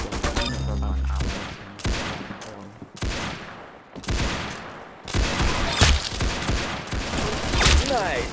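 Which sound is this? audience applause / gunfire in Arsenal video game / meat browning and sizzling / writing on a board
gunfire in Arsenal video game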